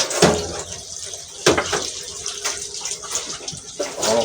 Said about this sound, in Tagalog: Hugas na tayo ng pinggan guys